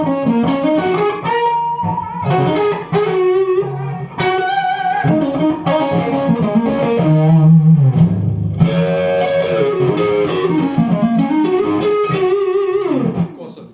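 Heavily distorted electric bass played through a Gjika 10^n guitar amp plays a continuous melodic line, loud and gritty with a saturated buzz throughout.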